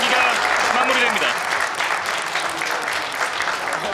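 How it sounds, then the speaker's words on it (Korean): Spectators at the 2019 eBEST Continental Cup three-cushion billiards match applaud loudly and steadily at the end of a game, with a commentator's voice briefly heard under the clapping at the start. "박수가 나오고 있습니다."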